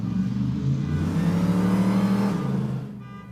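A car engine with its rev limiter removed revs hard and loud at sustained high RPM, then drops away near the end.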